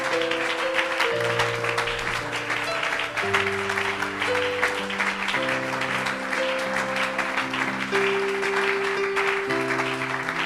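A church congregation at a Friday worship service claps continuously for Jesus, a dense, even wash of applause over sustained keyboard chords throughout.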